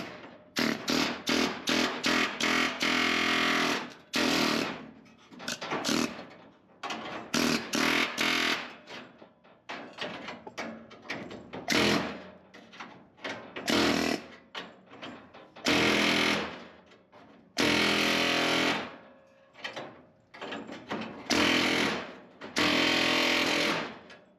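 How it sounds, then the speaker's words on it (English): An air chisel hammers at the welds on a 1970 Chevrolet Nova tail light tray, firing in loud, close rapid bursts of rattling metal impacts separated by short pauses. "I think a couple hits with the air chisel will finish it off."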